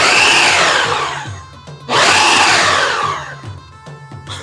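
Electric blender chopping a jerk chicken marinade, two loud whirring bursts separated by a brief pause, followed by fainter intermittent pulses and rattling.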